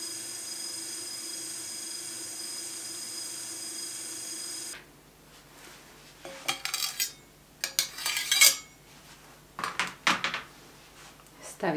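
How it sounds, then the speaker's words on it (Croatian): Powdered sugar and butter being mixed for a cake filling: a steady mixer hum for several seconds, then scattered clinks and scrapes of utensils against a bowl, close and moderately quiet. "Prvo je potrebno da promiješamo šećer u prahu i maslac i onda da postepeno dodajemo sir"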